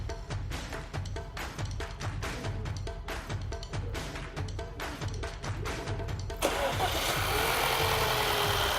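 A car engine turns over with rapid, regular pulses after an oil change and new air filter, then catches and runs into a louder, steady roar near the end, heard close up.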